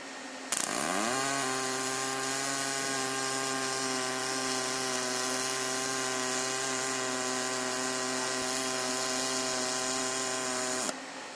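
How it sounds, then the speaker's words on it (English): Pulsed MIG welding of stainless steel by a robotic welding system, a steady loud buzzing drone that starts abruptly, rises briefly in pitch, then holds an even harmonic hum for about ten seconds before cutting off, with no talk. "please take a look at the pulsed MIG welding of stainless steel"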